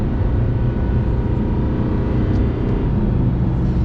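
A Lamborghini Huracan EVO 640-4 with a V10 engine drones steadily and loudly while driving, a continuous low rumble heard from inside the car with no voices.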